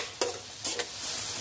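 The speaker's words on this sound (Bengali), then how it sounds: "পানি দিয়ে ভালোভাবে মশলাটা কষাতে হবে। এবার কয়েকটা কাঁচামরিচ দিয়ে দিলাম।" A spice paste sautéed with water and green chilies in a fish curry sizzles and gets stirred, with two sharp bursts of spatter over a soft, steady hiss.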